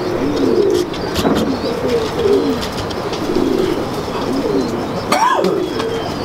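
Kasuri pigeons coo in a steady series of soft, rolling calls, close and fairly loud, with a few chirps and a brief sharper call near the end, and no talk over them.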